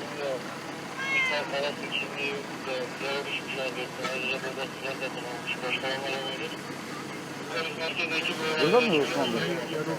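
A cat meows repeatedly during a rescue from a building in Diyarbakır, its cries rising and falling in clear harmonic calls amid background noise and people talking, with a louder meow near the end.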